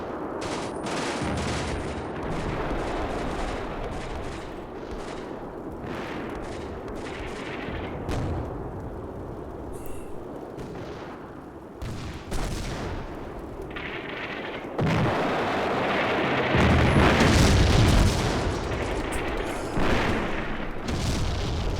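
Artillery fire and explosions in the WWII tactical game Combat Mission Beyond Overlord, with repeated heavy booms and rumbling blasts, some distant and some close, swelling into a dense barrage near the end.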